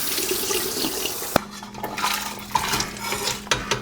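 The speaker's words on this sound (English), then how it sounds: "So I went ahead and opened these up, so I'm just gonna drain it in the sink" Canned hominy drained into a kitchen sink for pozole rojo, liquid splashing and running steadily with clanks of the can and metal against the basin, close and fairly loud.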